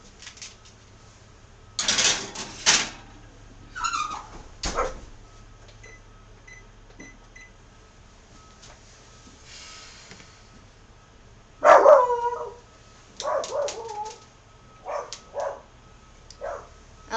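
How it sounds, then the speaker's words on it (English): A dog barks several times in short bursts, some spaced apart and some clustered in a quick volley, sounding moderately near in a quiet home kitchen with a faint steady hum behind it. "I hope my dog is not too loud."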